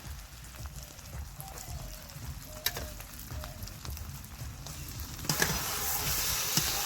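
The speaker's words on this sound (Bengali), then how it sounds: "কষা মশলায় মাখানো মাছটা দিয়ে দিব" Marinated rui fish hits a pan of fried, turmeric-spiced paste with a steady close sizzle and crackle, growing louder and brighter toward the end.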